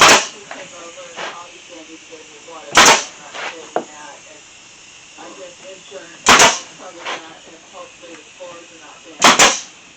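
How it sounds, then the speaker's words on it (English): A staple gun fires sharp snapping shots, four spaced bursts, fixing a trellis to a wooden planter up close, with quieter handling noises and faint talk between the shots. "Throw you in a staple."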